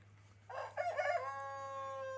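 A rooster crows once nearby, a clear rising-and-falling cock-a-doodle-doo that stretches into a long held final note over a steady low hum, with no talk.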